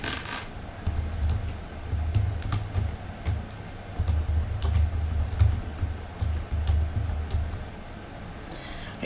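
Rapid close clicking of keys on a computer keyboard as a title is typed, an uneven run of light taps lasting several seconds with no speech over it.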